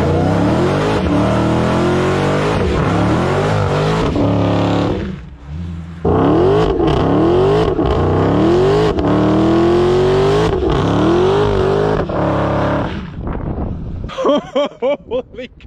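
A car revs its engine hard during a line lock burnout, loud repeated rising revs close by with brief drops between pulls, ending in sputtering bursts, and tire noise and wind buffeting mixed in.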